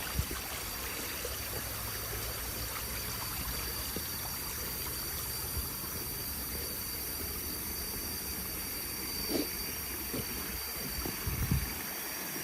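A steady, soft rush of flowing stream water at Khum Hom waterfall in Thailand's Phu Phan mountains continues throughout, faint and even, with a few brief low knocks near the end and no voices.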